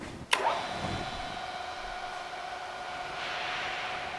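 An Acra variable-speed vertical milling machine, a standard Bridgeport-style mill, starts with a brief click and then runs at a faint, steady hum with a faint mechanical whine, heard alone.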